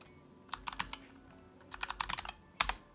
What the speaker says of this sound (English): You guys are gonna hear me type sometimes.